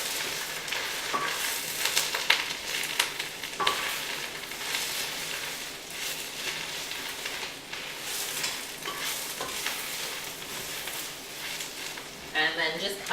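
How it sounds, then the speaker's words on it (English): Spicy kale sizzling and frying in a pan while being stirred, a continuous crackling hiss with scraping stir strokes throughout, close and fairly loud, with a person talking at points. "So we'll give that a little stir."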